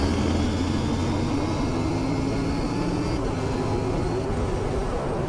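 A KTM 890 Duke GP motorcycle pulls hard in fourth gear off a roundabout, giving a loud, steady engine drone with wind rush throughout and no talk.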